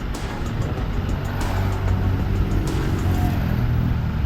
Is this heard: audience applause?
no